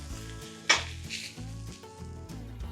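Porterhouse steak searing in a hot pan gives a steady sizzle alongside a sharp metallic clank of pan or utensil, with low background music underneath.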